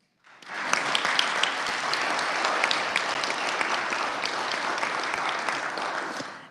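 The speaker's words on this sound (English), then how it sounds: "so we're gonna applaud Erica." Audience applause fills a state Senate chamber during a legislative session honouring a teacher, loud and steady clapping from many hands lasting several seconds without talk.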